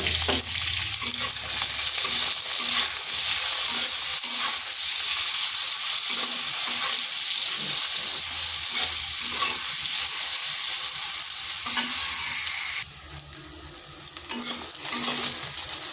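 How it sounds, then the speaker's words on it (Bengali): Eggplant pieces fry in hot oil with a steady, loud sizzle, while a utensil stirs and scrapes the pan repeatedly throughout. "বেগুনগুলোকে একটু ভেজে নেব।"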